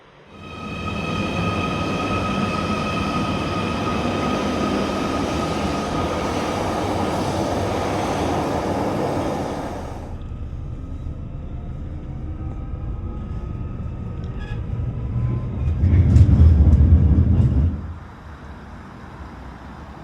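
Rail rumble of a train heading toward Liverpool Lime Street, a steady loud interior drone for about ten seconds, then quieter running with a brief louder surge near the end.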